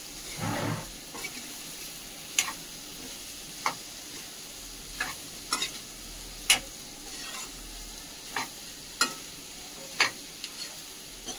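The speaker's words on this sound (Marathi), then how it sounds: "आपल्याला 2 ते 3 मिनिट असं तेलामध्ये पूर्ण भाजून तळून घ्यायचं" Tinda being fried in oil with masala for a curry, a quiet, low background sizzle punctuated by spaced, sharp stirring ticks every second or so, close by and with no voices.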